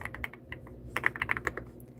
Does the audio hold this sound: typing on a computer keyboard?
yes